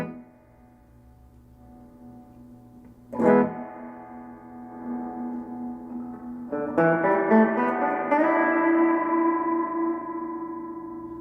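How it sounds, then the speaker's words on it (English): Electric guitar notes ring through a Studio 15R amp with the reverb control adding an echo effect. Two separate struck chords sustain and decay with a lingering reverberant tail, the second one fuller and longer. "The reverb control allows you to add an echo effect to the guitar."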